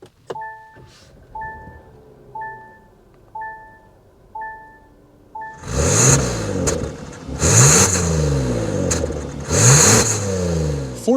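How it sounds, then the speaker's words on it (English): Chimes beep repeatedly, then the engine of a 2024 Kia Telluride SX SUV cranks and catches with a loud roar, followed by a couple of sharp revs and a deep rumbling exhaust at idle. "start it up, so you can hear that exhaust note"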